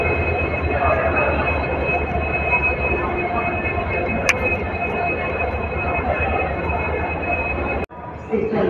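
An Amravati Express with older ICF coaches stands at a station platform, giving a steady low rumble and hum with a faint high whine and a brief metallic screech midway, close and continuous, ending in a sudden cut.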